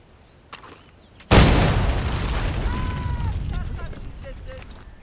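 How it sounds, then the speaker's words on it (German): A loud explosion blasts something apart in Assassin's Creed 3, bursting suddenly after a short quiet lead-in and then rumbling and crackling as debris settles, with faint background sounds trailing off. "Wir sprengen ihn."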